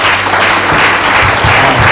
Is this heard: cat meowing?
no